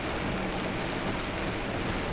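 Heavy rain pours down in a rainstorm in rural Carroll County, Illinois, a dense, steady hiss of drops close by, with no pauses or voices.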